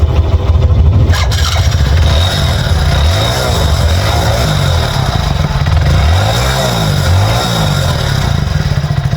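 A Hero Splendor motorcycle engine starts and revs repeatedly, the throttle rising and falling in loud rumbling bursts up close.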